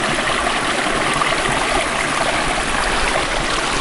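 A small, clear hillside stream flows steadily nearby on Moel Famau, its continuous loud babbling and trickling rushing without pause.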